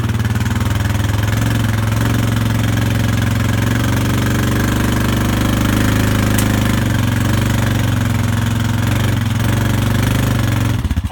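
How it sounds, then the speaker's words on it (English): A four-wheeler ATV engine runs loud and close while creeping slowly across a grassy field, a steady throbbing low drone with a slight knock that holds for the whole stretch. "they know when my four-wheeler starts up that they're going to get fresh grass"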